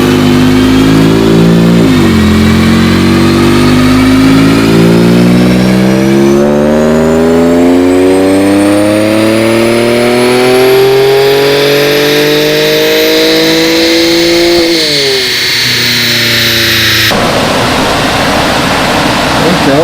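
Infiniti Q50 with a VR30 twin-turbo engine and larger lower downpipes revving hard on a dyno, a loud sustained pull with pitch rising steadily through the gears, a brief dip near the end, then a rough, noisy tail.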